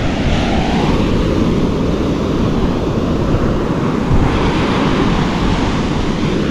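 Heavy surf roars continuously, big waves crashing and washing with strong wind buffeting the microphone.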